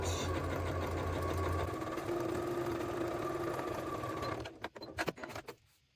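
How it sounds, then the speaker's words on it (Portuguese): A sewing machine runs steadily as it stitches a seam parallel to an earlier line, a close, even mechanical whir for about four seconds, followed by a few short bursts and clicks as it stops. "vou voltar na máquina, vou colocar o pé calcador em paralelo à primeira costura"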